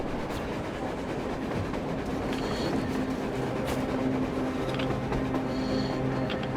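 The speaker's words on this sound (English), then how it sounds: "A train! A damn train on the surface!" A train rumbles steadily across the surface in the Metro Exodus video game, a continuous low mechanical drone with faint clacking and tonal hums, heard alone without speech.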